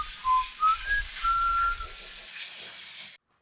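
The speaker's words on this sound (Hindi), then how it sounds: "सीटी बजने की आवाज आती है," Whistling as a horror-story sound effect, a few short rising notes and then a longer held tone over a faint hiss, ending abruptly in silence.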